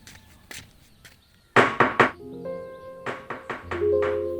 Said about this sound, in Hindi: ए सोनू, जाके देख दरवाजे पे कोई आया है